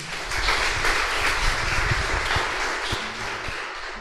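A church congregation applauds together, a continuous broad patter of clapping with a few sharper individual claps, moderately loud and unbroken throughout.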